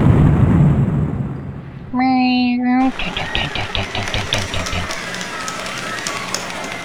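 An explosion in the video game Evil Genius gives a crackling, popping burst that rolls on for several seconds after a brief mechanical whirr. Someone talks over it.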